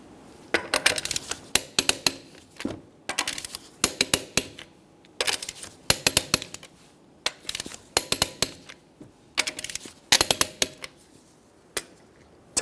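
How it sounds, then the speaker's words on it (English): Rapid metallic clicks from a torque wrench tightening the wheel lug nuts on a 2011–2020 Toyota Sienna come in close, sharp bursts, nut after nut, each run ending in a pause. "we'll be torquing these in a crisscross manner"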